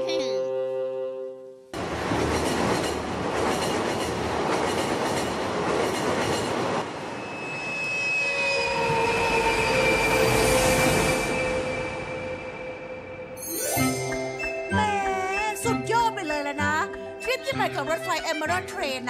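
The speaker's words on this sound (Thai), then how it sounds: "รถไฟเอเมอรัลด์เทรน" The Emerald Train, an animated cartoon night train, rolls along its rails with a steady rumble and rhythmic clatter that swells and fades. It gives way near the end to music and voices.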